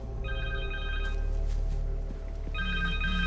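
Cell phone ringtone in the Spider-Man 2 video game on PS5, a repeating electronic trill in two bursts over a low game ambience, clear and fairly close.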